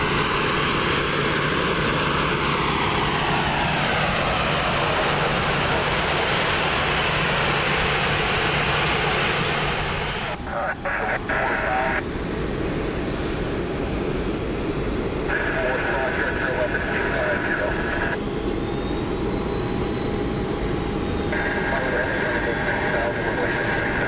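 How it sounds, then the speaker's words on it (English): Delta Boeing 757 and 737 charter jets taxi for departure, a steady broadband jet engine whine and rumble that stays loud and continuous, with a shift in tone partway through as engine noise changes. "they're on a 757 and a 737. Taxiing over for departure on their way back to Green Bay."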